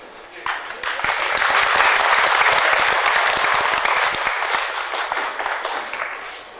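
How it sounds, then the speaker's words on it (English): Steady audience applause at a Ukrainian festival in Gardenton, a sustained wash of many hands clapping that swells and slowly thins over several seconds. "You could do a lot better than that for an applause for them."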